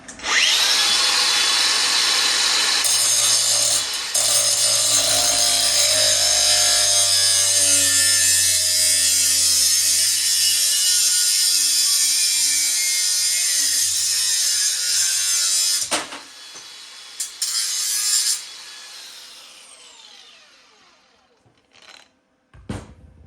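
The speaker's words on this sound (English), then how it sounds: "let's cut this one down to length" A power tool cuts a metal tube to length for a treadmill handrail, a loud, sustained, high-pitched grinding whine that runs for about sixteen seconds, then winds down with a few short bursts before fading.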